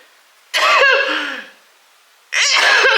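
A woman sneezes twice, two sharp, explosive bursts, the first longer and trailing off, the second abrupt, with silence between.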